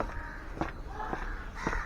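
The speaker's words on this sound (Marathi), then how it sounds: "सकाळ सकाळ कसं सगळं शांतता होतं पक्ष्यांचा किलबिलट तुम्हाला आवाज येईल" Bird calls ring out outdoors in the early morning along a lane, three harsh caw-like cries spaced about half a second apart over a quiet background hum.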